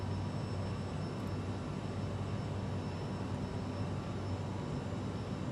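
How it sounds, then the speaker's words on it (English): Airplane engine drone in Microsoft Flight Simulator, a steady, even broadband roar that holds constant throughout with no talk over it. "Don't hear that plane noise in the background?"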